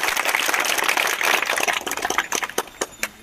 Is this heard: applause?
yes